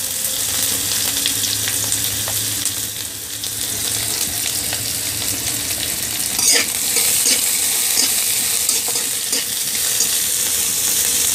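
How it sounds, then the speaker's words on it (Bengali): Chopped garlic and onion frying in oil, a dense continuous sizzle with the scrape of stirring, close and fairly loud, a brief metallic clatter partway through and no talking. "এখন বাদামি কালার করে ভাজবো।"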